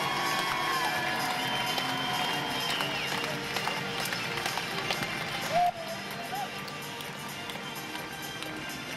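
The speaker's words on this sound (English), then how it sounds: "And a big, happy hometown crowd." Big home crowd cheering and applauding at the 2015 World Fencing Championships in Moscow, a steady wash of cheers and claps filling a large arena, with a brief louder burst partway through.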